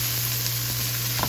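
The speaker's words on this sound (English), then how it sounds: "these have been sauteing for probably 10 minutes." Vegetables and onions sautéing in a pan, giving a steady, even sizzle throughout with a few faint stirring clicks near the end.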